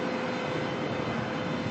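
Aging Jetstar airliner at Melbourne airport, a steady broadband engine roar that holds evenly throughout, fairly loud and continuous with no talk over it.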